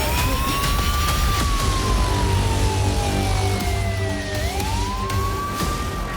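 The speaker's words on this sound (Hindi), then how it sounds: "अचानक यूक्रेन के कई शहरों में सायरन बज उठे।" Air raid sirens in Ukrainian cities wail continuously, pitch slowly sweeping down and then rising again, sounding distant over a low background rumble.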